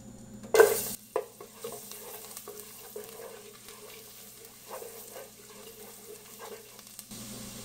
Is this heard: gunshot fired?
no